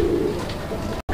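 Golla-breed pigeons coo briefly nearby, a low soft throaty murmur at the start that fades under faint background noise before a short silence, with no speech.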